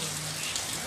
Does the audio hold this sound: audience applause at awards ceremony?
no